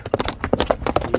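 Hooves of a horse being shown for sale strike the ground in a quick, regular clip-clop, close and fairly loud, with each beat sharp and distinct.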